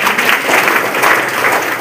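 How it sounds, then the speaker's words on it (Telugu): A group of school students applauds a correct answer at a general knowledge quiz, dense steady clapping close by that lasts briefly with no pause. "అందరూ కలిసి చప్పట్లతో అభినందించగలరని మనవి."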